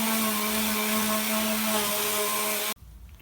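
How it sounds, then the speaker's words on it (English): Light sanding of freshly ripped wood frame pieces for a workshop tool wall, a steady whirring power-sander drone that holds close and loud for nearly three seconds before cutting off abruptly to quiet. "I'm just going to give them a light sanding now just to get the worst of the splinters off."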